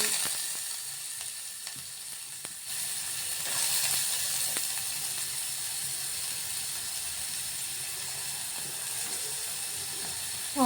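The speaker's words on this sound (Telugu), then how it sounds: "నూనె వేడెక్కాక ఇందులో ఆనియన్స్ వేయాలి" Onions frying in a pan of hot oil for vegetable macaroni pasta, a steady close sizzle with faint clicks and stirring scrapes, louder near the start and end, no voices.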